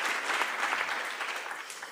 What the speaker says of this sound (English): So, first round of applause, please.